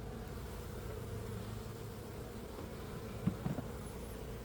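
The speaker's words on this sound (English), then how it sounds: "Even the crown board is already spilling with bees" Honeybees hum softly during a beehive inspection in early spring in Melbourne, a faint, continuous drone with a couple of brief knocks near the end.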